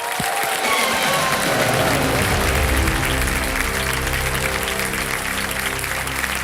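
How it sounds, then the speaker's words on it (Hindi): Steady applause from a large Kaun Banega Crorepati studio audience fills the whole stretch, with low tonal music swelling underneath and continuing to the end. "तालियां बज जाए इनके लिए"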